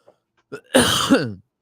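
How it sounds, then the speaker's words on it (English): A person coughs and clears an irritated throat after drinking apple cider vinegar: a brief faint catch, then one harsh close cough burst rising into a rough, voiced throat-clearing rasp, loud and alone. "I don't know why I'm coughing so much"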